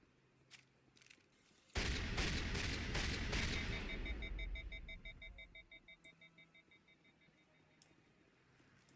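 A shotgun fires in the Mass Effect video game: a rapid run of about six loud, sharp blasts, followed by a ringing tail and faint mechanical clicking that fade to quiet.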